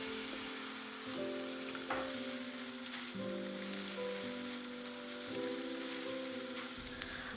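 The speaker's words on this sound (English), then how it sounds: "I will keep frying until the rice looks a bit dry" Steady sizzling crackle of fried rice with shrimp, egg, tomato and spring onion frying in a hot pan, with faint clinks and a soft tonal hum in the background.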